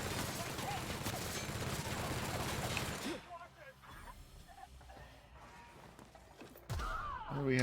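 Gunfire in a PC video game, dense rapid shots for the first few seconds, then quieter game sounds with a voice, ending in a louder burst.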